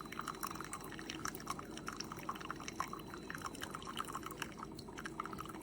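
A Tastyle single-serve one-cup coffee maker brewing a K-Cup or grounds into a cup, giving steady close gurgling, dripping and pouring of liquid, fairly quiet and continuous throughout with no talk.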